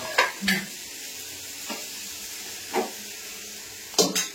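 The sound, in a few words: tempering spices sizzling in oil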